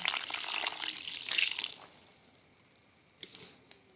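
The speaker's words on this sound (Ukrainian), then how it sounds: "І вливаю сюди літр води. Просто ось так зверху." A litre of water is poured from above onto meat bones in a pot for a rustic stew, a brief splashing gush lasting under two seconds, then quiet with a few faint clinks.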